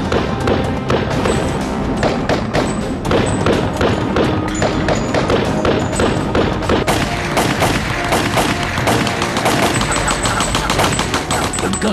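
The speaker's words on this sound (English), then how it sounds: "The guns could fire more than 800 rounds per minute." Machine guns firing more than 800 rounds per minute, a loud, dense and continuous stream of rapid shots with no clear pauses between bursts.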